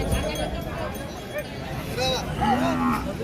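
Oxen low repeatedly, a few long drawn-out moos, amid the steady murmur of a busy outdoor crowd at the Saturday bull market in Pebbair, with people talking nearby.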